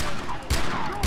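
Sharp bursts of explosive gunfire-like blasts in the Far Cry 3 video game, two loud booming hits about half a second apart over a dense, noisy battle backdrop.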